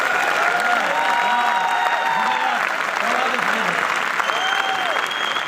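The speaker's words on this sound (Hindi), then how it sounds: "एक बार मिलकर तालियां दे दीजिए।" An audience at a Hindi poetry gathering applauds in a sustained, even wash of clapping that fills the room, with a voice speaking over it throughout.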